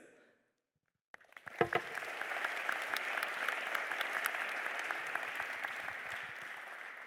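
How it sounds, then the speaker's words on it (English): An audience at the close of a GNF conference session on creating a Moon Village bursts into sustained applause for the panelists after a brief silence, loud and steady to the end with a few sharper claps early on. "Let us applaud to our panelists."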